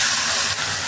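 Ash gourd pieces hitting a pan of hot, well-fried spice paste with salt, sugar and turmeric give a loud, steady sizzling hiss that runs unbroken, close up and without voices.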